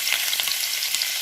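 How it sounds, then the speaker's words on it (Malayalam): Garlic dropped into hot oil for chickpea manchurian sizzles and crackles steadily, a dense, close frying hiss with small pops and no voices. "ഓയിൽ ചൂടായിട്ടുണ്ട്. വെളുത്തുള്ളി ഇട്ട് കൊടുത്ത്"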